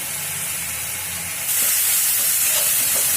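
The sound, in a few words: green chillies frying in oil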